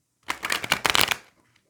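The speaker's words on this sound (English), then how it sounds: "please forgive me if I'm shuffling these cards right near" A deck of oracle cards shuffled right next to the microphone, a single loud, close burst of rapid riffling clicks lasting about a second, then silence.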